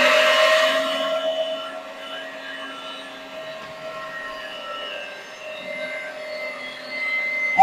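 A meat grinder runs through a mix of tomatoes and garden greens for marinara, a steady droning whir that starts loudest and then settles into a continuous even hum, close and alone.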